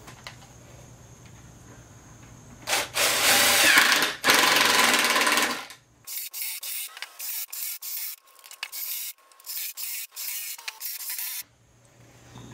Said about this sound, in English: Then we're going to secure the trash can with a row of bolts. These are roofing bolts.